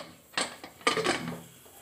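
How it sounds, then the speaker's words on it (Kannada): Metal lid of a pressure cooker of chana masala being closed, two close metallic clatters and a short scrape in quick succession, with no talking. "ಇವಾಗ ಕುಕ್ಕರ್ ಮುಚ್ಚಿಬಿಡಿ"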